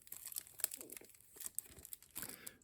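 A plastic seal is peeled off a Creepshow 2 limited edition Blu-ray case, giving faint close crinkles and short tearing rustles in irregular bursts, with no voices.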